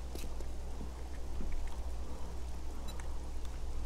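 Rain in the video game 7 Days to Die, a steady, dense patter and hiss of falling drops with a low rumble underneath, continuous throughout with no talking.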